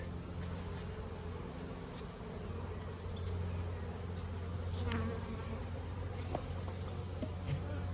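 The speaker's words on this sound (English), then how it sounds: "Sweep these bees off of here." A dense, steady buzz of many honey bees swarming close by during a honey harvest from a Layens hive, continuous throughout with faint clicks and rustles on top.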